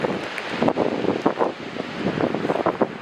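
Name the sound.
strong wind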